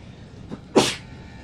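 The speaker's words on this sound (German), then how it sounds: "Ich muss niesen." A person lets out one short, sharp sneeze, preceded by a faint intake of breath, close and fairly loud in a quiet room.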